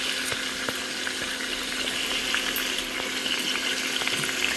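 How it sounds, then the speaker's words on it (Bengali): Potato pieces frying in hot oil in a wok for aloo dum: a steady, close crackling sizzle with small pops and spatters, continuous throughout with no talking. "আলুর দমে আলুটা একটু ভালো করে ভেজে নিলে ভালো লাগে, তাই আলুটা একটু ভালো করে ভেজে নিই।"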